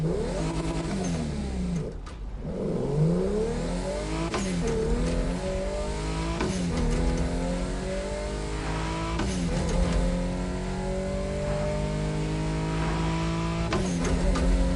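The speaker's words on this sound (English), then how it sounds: "I don't hear the supercharger noise, but oh there" A supercharged car in The Crew Motorfest racing game roars through repeated rising and falling gear sweeps, the engine note climbing and dropping in waves with a whining edge, loud and continuous, with brief tire squeal.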